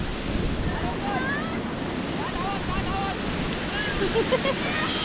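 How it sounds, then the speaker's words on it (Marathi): Steady roar of large sea waves washing onto Devgad beach, continuous and fairly loud, with wind noise over the microphone and faint distant voices in the mix. "लाटा केवढ्या येत आहेत बघा"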